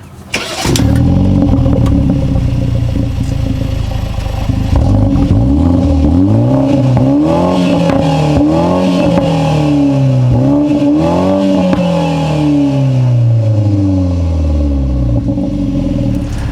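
The four-cylinder engine of a 2019 BMW 330i xDrive cranks and fires up loudly, then revs up and down several times in rising and falling sweeps, with a throaty exhaust note.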